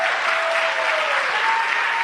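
A church congregation applauding, a steady, loud wash of many hands clapping close by with a faint sustained tone running underneath.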